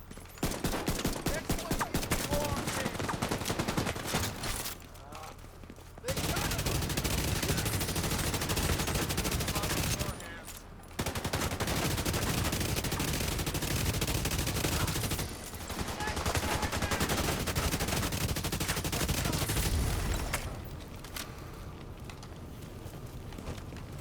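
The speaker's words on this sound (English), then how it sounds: "listen to that Kingbreaker just spit when that rate of fire is increased" The Kingbreaker rifle in The Division 2 firing in long rapid bursts, a loud dense rattle of shots broken by short pauses, with a voice talking faintly underneath.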